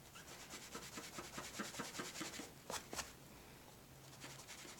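A white pencil eraser scrubs back and forth across cross-stitch fabric in a quick run of soft, close rubbing strokes, followed by a couple of brief louder scuffs, with no one talking.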